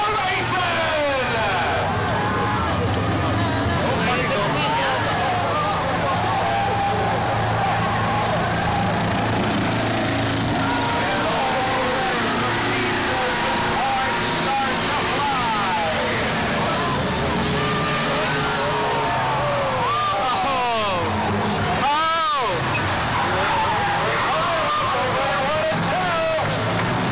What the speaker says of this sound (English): Here we go. Trailer racing.